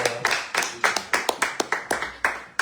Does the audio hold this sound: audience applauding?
yes